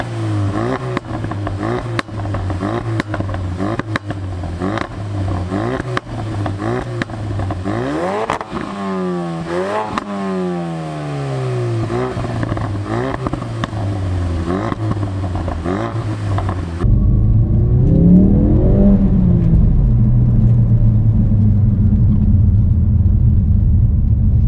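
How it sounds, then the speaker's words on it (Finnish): A Ford Focus RS engine accelerates inside a tunnel, its rising, rumbling note climbing through several gear changes with echoing reverberation, then settling into a steady, louder drone near the end. "Kiihdyttää tunnelissa, niin ei se nyt mikään ihan hurja ääni on mitä tosta kuuluu"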